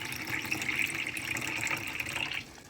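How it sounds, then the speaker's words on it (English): Filtered tap water poured steadily into a yogurt maker for a second batch of L. reuteri yogurt, a continuous close splashing rush that stops abruptly near the end. "we're going to add the water, and I'm using filter water, to the yogurt line of our second batch here"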